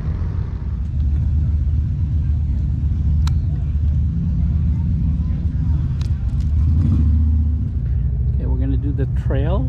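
Car engine and tires give a steady, low road rumble from inside the vehicle while climbing the road at Devils Tower, Wyoming, with people talking over it throughout.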